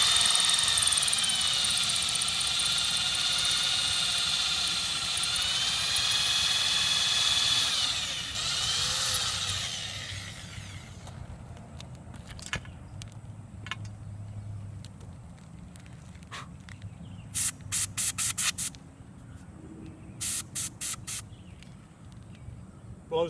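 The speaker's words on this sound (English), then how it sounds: "when drilling into masonry, it's good to spray a little water into the place you're drilling." A loud, sustained power drill whine for several seconds, drilling into masonry with water sprayed into the hole, then it stops, leaving quieter intermittent clicks, taps and brief bursts of high noise.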